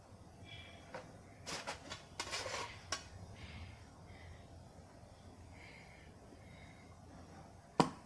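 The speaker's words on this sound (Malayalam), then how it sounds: "ആവശ്യമുള്ള ബ്രെഡ് നമുക്ക് കട്ട് ചെയ്തെടുക്കാം." A knife cuts bread slices on a board in a home kitchen, a few brief scraping strokes and a light knock, faint and close, followed by quiet room tone and a sharp tap at the end.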